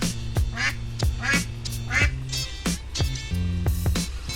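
Ducks newly settled in a freshly built pen quack loudly and repeatedly in overlapping bursts, close by and steady throughout, with no talking.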